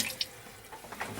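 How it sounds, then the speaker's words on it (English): Tap water runs briefly into a container of fermenting tomato seeds and pulp, a short close splashing trickle with small irregular bursts. "We get a little more water in there, and hopefully the last of the pulp."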